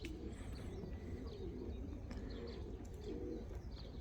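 Pigeons cooing beside a garage by a villa garden, soft low repeated coos close by with a few faint chirps and a quiet steady background.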